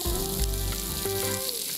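Onion frying in oil with salt in a pan, a loud, close and continuous sizzle with a faint low hum underneath and no talk.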